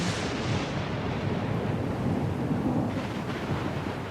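A stormy sea in the Pillars of Eternity 2: Deadfire video game roars with dense, continuous thunder and driving rain, loud and unbroken throughout, with no voices.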